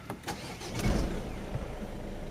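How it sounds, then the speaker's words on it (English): Car engine starting with a few cranking clicks, then catching into a low rumble that settles into a steady idle, heard close by. "So turn the engine on."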